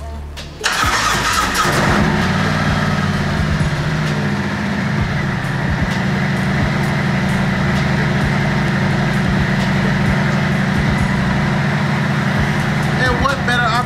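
A motorcycle engine cranks and catches within the first second, then settles into a loud, steady idle that runs close and unbroken to the end.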